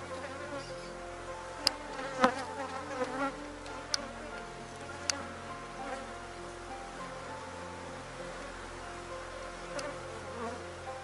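Honey bees buzz in a dense, continuous drone around a hive frame during a colony inspection, close and steady, with a few sharp clicks and knocks from handling and no speech.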